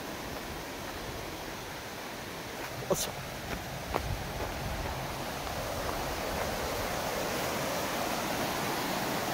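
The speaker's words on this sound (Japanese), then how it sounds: "ちょっと滝の音が、結構滝、あ、滝すごい。" Ryuzu Falls in Nikko with snow on the falls: a steady, broad rush of falling water fills the scene, with a few footsteps on the path and a brief spoken exclamation partway through.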